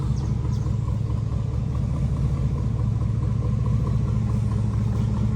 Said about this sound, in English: He has the straight pipe, no cats, no resonators, no mufflers. It sounds unbelievable.